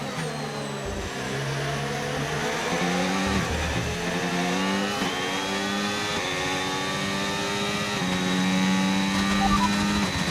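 Formula 1 race car engines in the F1 25 video game, a steady high whine that rises and drops through repeated gear changes over about ten seconds, loud and continuous with no talk.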